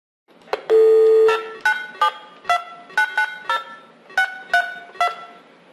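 Telephone keypad dialing on a handset placing an incoming call to a GP-712 VoIP phone system: a long steady tone opens, followed by a brisk series of about ten short DTMF beeps in an uneven rhythm, clear and close.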